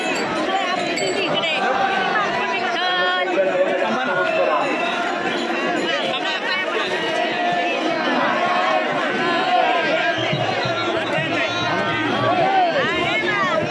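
A dense crowd of pilgrims on a busy road during the Pandharpur wari on Ashadhi Ekadashi, a steady loud babble of many overlapping voices with chatter and shouts all around.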